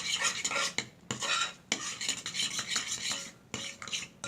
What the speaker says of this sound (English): I'm just stirring it up, you know, not a lot of mixing involved